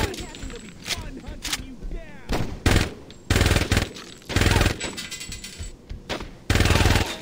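Machine gun fire in Saints Row 2 comes in loud, rapid bursts of several seconds each with short gaps between them, while voices talk over and between the volleys.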